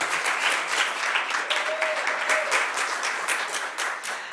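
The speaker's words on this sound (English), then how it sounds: "So give her another round of applause." An audience applauds an author, a retired Army general, on stage at a book event, with sustained crowd clapping and a few distinct individual claps standing out, holding steady before tapering slightly.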